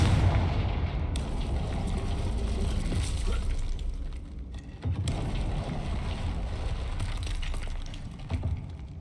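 Confringo fire spell in Hogwarts Legacy: a dense, loud rumbling blast that swells, dips briefly midway, then roars on as a continuous explosive wash.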